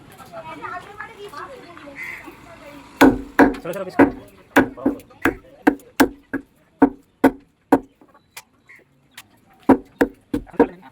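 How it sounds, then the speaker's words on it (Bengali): Chicken meat is chopped with sharp, rhythmic cleaver strikes on a block at a chicken shop, loud and close, following a few seconds of talk and street noise. "এই মুরগি তো এখানে এখন মাংস কাটা হচ্ছে, দেখুন।"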